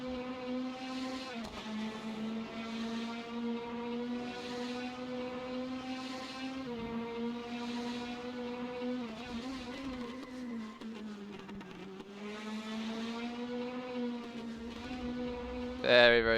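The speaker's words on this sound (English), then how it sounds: "Follow him, I guess, with the Praga engine sounds." Praga race car engine droning through a lap at Curitiba, a sustained harmonic whine shifting pitch with throttle changes, heard from a steady distance over about sixteen seconds with faint commentary underneath.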